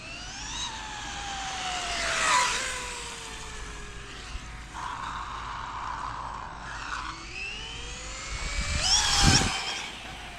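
The motor of a wheelie machine being ridden on a street whines with a zinging, siren-like tone that glides down and up in pitch, surging louder twice and easing between.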